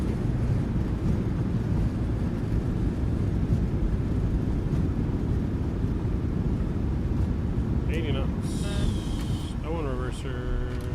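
Airliner thrust reversers roar after touchdown at Mexico City in Microsoft Flight Simulator 2020, an Aeromexico PMDG aircraft: a loud, steady broadband rush throughout, with brief electronic tones chiming near the end.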